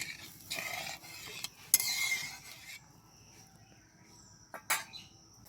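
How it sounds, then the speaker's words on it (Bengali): Bengali katla fish kalia gravy of fried spices and water boiling in a pot, a broad steady bubbling hiss that is loudest early on and then settles quieter, with a few clinks of a utensil against the pot. "এবার ঝোলটাকে খুব ভালো করে ফুটিয়ে নেব"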